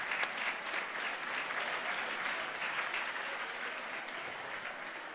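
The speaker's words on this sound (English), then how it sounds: "Let's thank our panelists and our moderator once again with a standing ovation." An audience gives a standing ovation to forum panelists and their moderator. Dense, sustained clapping comes from a large crowd, steady and fairly distant, with no speech over it.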